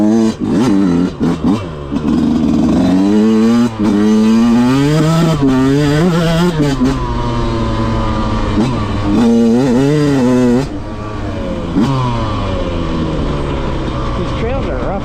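A Yamaha YZ125 two-stroke dirt bike revs on a rough, snowy trail, its engine pitch climbing and falling in repeated close, loud sweeps, with brief dips between throttle bursts.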